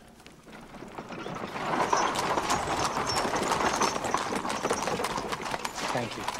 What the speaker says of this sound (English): I could offer you my carriage home.